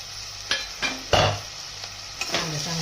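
Chopped onions frying in a pan for chicken sukka, a spoon stirring them in a few distinct scrapes and clatters over a steady soft sizzle, close by, with no voices.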